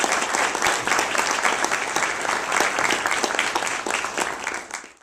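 An audience at YSU in Ohio claps warmly to welcome lecturer Dr. Joseph Carens. The applause is dense and continuous, holds steady for about five seconds, then tapers off.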